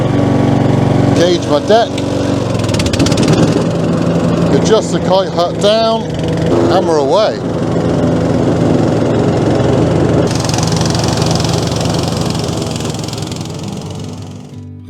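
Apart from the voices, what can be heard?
ride-on lawn mower engine running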